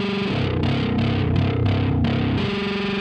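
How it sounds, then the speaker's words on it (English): Touch guitar played through heavy distortion, a thick buzzing chordal sound with several strummed chord changes over three seconds, loud and alone. "there's definitely too much distortion on it"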